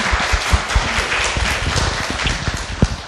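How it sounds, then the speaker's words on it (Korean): Audience applause of encouragement at a book talk event, a broad steady wash of clapping from a crowd with a few sharper claps standing out, fairly loud and continuous with no talking over it. "격려 박수를 보내드리고 싶은데"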